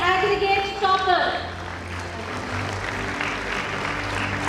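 At a 2024 BSSS university convocation ceremony, a speaking voice over a loudspeaker gives way to a sustained round of broad applause from a large audience, which continues steadily to the end.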